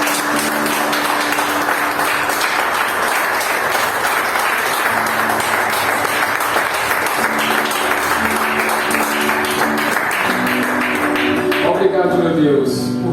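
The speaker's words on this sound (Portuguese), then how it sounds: "E você pode dar uma belíssima salva de palmas para Deus." Congregation applauding in a church during a family worship service, a dense steady wash of clapping lasting throughout, with music or voices sounding underneath and a brief swell near the end.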